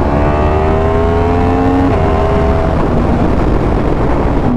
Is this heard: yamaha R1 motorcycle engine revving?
yes